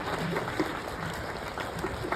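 An expo panel audience gives a brief round of applause, a fairly quiet, even patter of many hands that continues for the whole short stretch.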